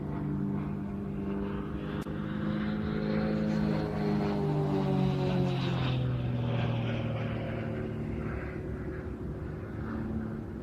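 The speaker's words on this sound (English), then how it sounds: "Again, snap rolling the aircraft as he's going up and pulling hard back on his 5-point harness." An aerobatic propeller plane at an air show performs snap rolls, its engine droning loud and near with the pitch rising and falling through the manoeuvre and some Doppler sweep.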